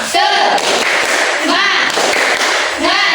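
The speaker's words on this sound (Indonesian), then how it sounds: "Sekali lagi tepuk semangat" A classroom of students claps the quick, rhythmic 'tepuk semangat' pattern, sharp hand strikes landing in short bursts mixed with loud group chanting voices.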